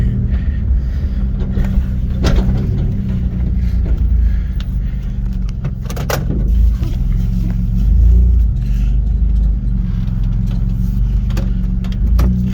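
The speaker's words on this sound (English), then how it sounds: "that is a very, very touchy, thick exhaust" A modded Toyota Camry's engine idles with a deep, thick exhaust rumble, blipped repeatedly by the throttle in uneven revs, close and loud throughout.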